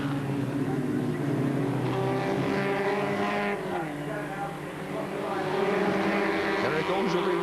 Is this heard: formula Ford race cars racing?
yes